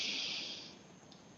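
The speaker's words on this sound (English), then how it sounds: "let me take a breath." A single deep breath drawn in close to the microphone, a soft airy hiss that fades over about a second before a faint sound at the very end.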